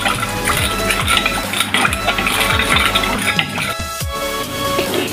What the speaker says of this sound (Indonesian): Diaduk kembali, setelah merata baru dimasak.